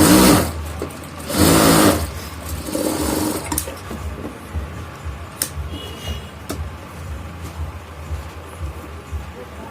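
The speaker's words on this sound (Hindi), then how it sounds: "इसकी सिलाई करेंगे। इसकी सिलाई होगी।" An electric sewing machine stitching the button placket of a checked shirt, running in two loud bursts of rapid whirring at the start before settling into quieter mechanical clicks and hum.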